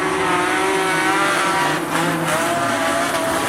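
Modified production race cars, a Holden Commodore leading, roar around a speedway in a steady dense engine howl with a brief dip midway.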